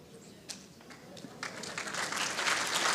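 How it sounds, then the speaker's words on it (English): Spectators clapping at an indoor bowls match, starting sparse and swelling into fuller applause by the end, with a faint murmur beneath. "It's getting a clap"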